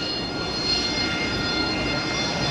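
An AV-8B Harrier II jet flies an airshow demonstration with a continuous broad jet engine roar and a high whine, loud and steady throughout, no talking.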